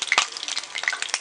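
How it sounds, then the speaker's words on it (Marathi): Garlic browning in hot oil in a kadai for a Malwani prawn curry gives a steady close sizzle with crackling bursts and the scrape of stirring, with no talk. "लसूण आपला छान ब्राऊन झालेला आहे."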